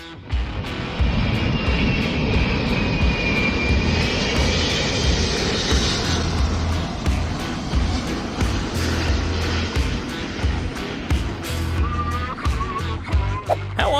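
An Airbus A380 passes low overhead along its flight path near houses, its engines a loud, sustained roar that holds steady with faint swells and whines, and no one speaks.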